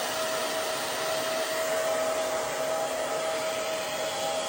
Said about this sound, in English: that's all with a blow dryer and round brush